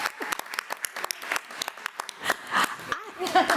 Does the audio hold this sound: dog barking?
no